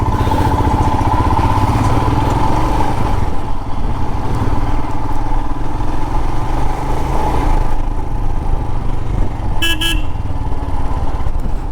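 Royal Enfield Himalayan motorcycle riding on the road, steady engine drone throughout with traffic around and a brief horn toot near the end.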